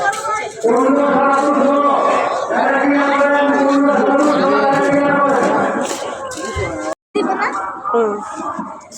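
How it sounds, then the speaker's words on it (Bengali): Cattle at a crowded late-night Eid cattle market give a long loud moo under a busy murmur of people, with a person speaking nearby and a brief dropout near the end. "তো গাইস এখানে আমার দুই পাশে গরু"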